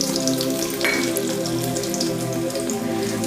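Cumin seeds are tipped into hot oil for a ridge gourd chutney and give a steady, close crackling sizzle with fine popping throughout, and no voices.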